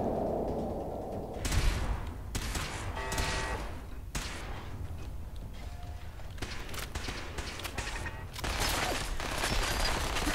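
Gunfire in the video game Fallout 4 comes as scattered bursts of sharp shots with clattering, footstep-like sounds between them, at a moderate level.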